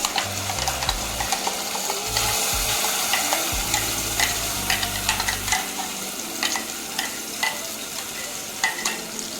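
Gravy frying in hot oil in a pan on the cooker sizzles steadily, with frequent stirring scrapes and light clinks, close and clear, no talking.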